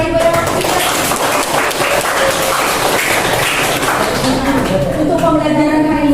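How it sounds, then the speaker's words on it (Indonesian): Students in a classroom clap for the children, producing a loud, dense, continuous patter of hands that carries on for several seconds in a reverberant room. "Tepuk tangan dulu untuk anak-anak ibu dan anak."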